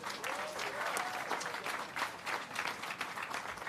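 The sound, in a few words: crowd applause at Hollywood Walk of Fame ceremony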